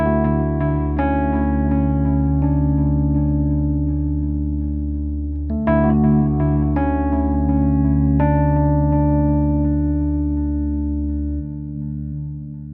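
Sustained electric guitar chords pass through an Impulse delay effect with the reverb at full, ringing with long echoing tails and struck anew every few seconds before fading at the end.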